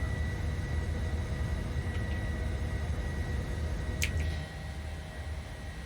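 A PMDG 737-900ER lifting off the runway at Edinburgh in Microsoft Flight Simulator, a low steady engine roar and rumble with a faint tonal whine, easing slightly near the end, alone without talk.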